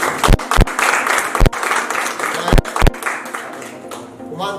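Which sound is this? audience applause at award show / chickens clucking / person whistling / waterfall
audience applause at award show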